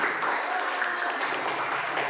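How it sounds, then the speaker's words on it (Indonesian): A classroom of students clapping for a classmate named Jimmy, a short stretch of steady, fairly soft applause without speech. "tepuk tangan dulu untuk Jimmy"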